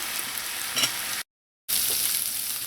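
Guyanese garlic pork frying in a pot on the stove, a steady close sizzle and crackle with a few stirring scrapes, cut by a brief silent gap midway, no talking.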